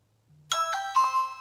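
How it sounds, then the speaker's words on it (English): A Ring Video Doorbell chime sounds after its button is pressed: a short click, then a clear, close ding-dong of bright bell tones that ring on briefly. "Somebody's ringing the doorbell."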